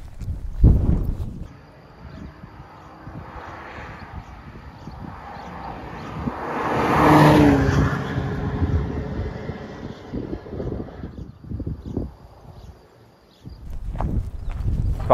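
Outdoors beside a parked Opel Astra J OPC, wind buffets the microphone in low, booming gusts, heaviest at the start and end, with a softer, wavering rumble between.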